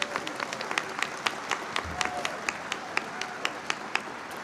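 Sparse clapping from a small group at a medical school convocation and white coat ceremony, individual claps distinct and fairly steady, with a murmur of room noise underneath.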